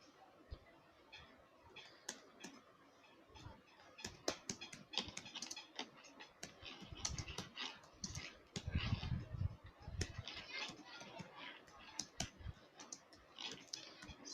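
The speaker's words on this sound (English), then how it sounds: "So I will type something in it." Bursts of quiet keyboard typing, irregular clusters of key clicks with short pauses, close and faint against a soft room background.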